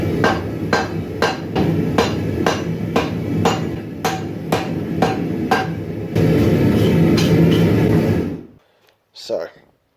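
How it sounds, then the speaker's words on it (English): Hot steel is hammered while a Damascus knife is forged, a steady run of about a dozen loud, ringing blows at an even rhythm over a roaring background, then the noise cuts off. "then just hammered it down reasonably flat"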